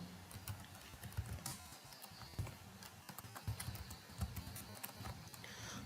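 Someone types on a computer keyboard, quiet, uneven bursts of light key clicks, close and faint.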